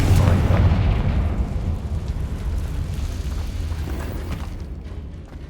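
A Confringo blasting-curse spell goes off in a Hogwarts-style video game as a heavy, booming explosion with a deep rumbling blast that rolls on and slowly fades.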